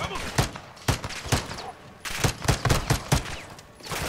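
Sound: gunfire in Modern Warfare 2 video game

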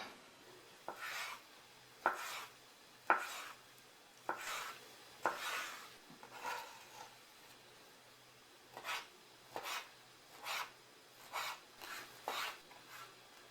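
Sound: knife dicing herring fillets into cubes

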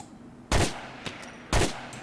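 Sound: sniper rifle gunfire in video game GTA: The Ballad of Gay Tony

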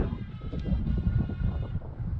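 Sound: strong wind

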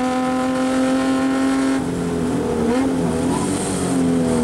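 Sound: Rover V8 racing car engine during 24-hour race

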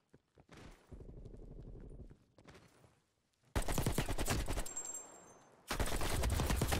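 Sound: AK rifle firing rapidly in video game Black Ops Cold War

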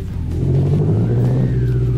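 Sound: car engine revving in Live For Speed video game

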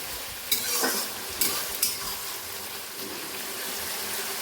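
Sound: onion, ginger, garlic and chillies frying with capsicum

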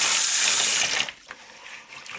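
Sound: tap water rinsing rice in a bowl

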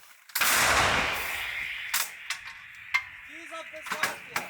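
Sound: howitzer firing

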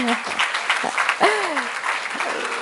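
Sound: audience applause on Women's Day

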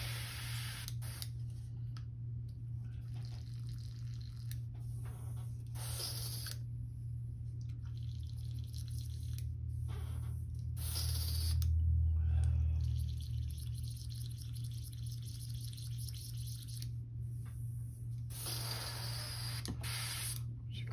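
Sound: airbrush being cleaned, spraying

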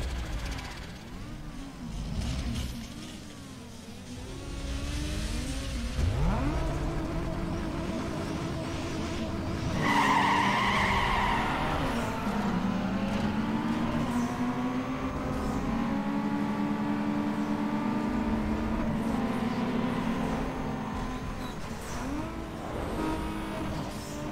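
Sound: car racing and skidding in Need for Speed Underground 2 video game

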